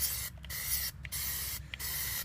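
Plasti Dip aerosol being sprayed in a thick coat onto a Porsche 991 wheel: a steady, close hiss broken by three brief pauses between bursts.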